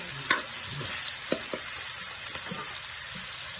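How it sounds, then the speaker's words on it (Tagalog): Vegetables fry in a pan with soy sauce added, a steady close sizzle broken by a few soft clicks and stirring taps, with no talking. "naprito na ng konti. Lagyan na natin ng toyo"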